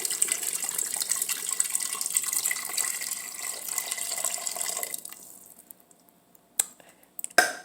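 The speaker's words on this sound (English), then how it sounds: "Okay, so now it's time to add our beef broth." Beef broth pours into a pot in a steady, close liquid rush for about five seconds, fading out before a few clanks and knocks of the pot.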